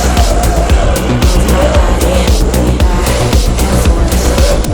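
Drift kart sliding through downtown streets at night, its engine roaring loud and close while tires squeal continuously through the slide, with no pauses.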